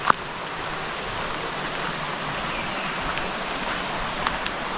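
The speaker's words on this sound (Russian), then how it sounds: "Просто пороги у этой речушки." The rapids of a small river rush steadily, close to the listener, as a continuous broadband wash of flowing water with no breaks.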